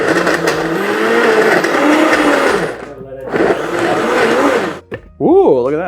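A blender whirring at low speed through rum, lemon juice and pineapple, a loud steady motor drone that pauses briefly, restarts, then cuts out as a voice speaks over the final moment.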